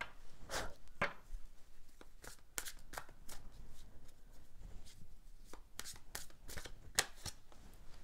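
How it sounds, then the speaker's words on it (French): Tarot cards being shuffled and drawn, a run of crisp, close riffling slaps and flicks in irregular bursts, with quiet gaps between them and no voice. "on va tirer une carte pour les énergies principales du mois de janvier"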